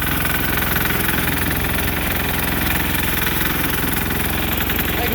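The engine of a Sears Suburban garden tractor runs close and loud at a steady idle. The rumble is continuous and slightly knocking, with no pauses.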